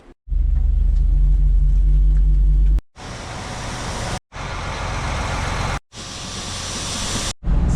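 A farm truck engine idling during a corn harvest, a loud, steady low rumble heard close up and repeatedly cut off by brief gaps, with no talking.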